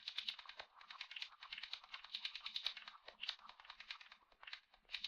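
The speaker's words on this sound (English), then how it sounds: "delay plugin made for glitchy delay effects" Dense, crackly glitch textures from a glitch delay effect, with stuttering, repeating fragments, a steady busy clatter of short clicks and ticks running throughout at moderate level.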